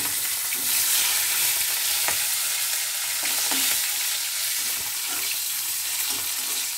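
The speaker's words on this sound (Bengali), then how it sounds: "আমি ক্যাপসিকামটা প্রথমে ভেজে নেব" Capsicum frying in a pan, a steady close hiss with a few soft clicks and scrapes from stirring, no voices.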